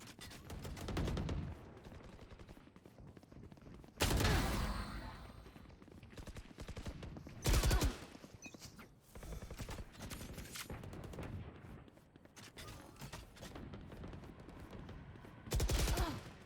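Gunshots in a shooting video game, fired in a few loud separate bursts spread across the clip, with quieter game noise between them.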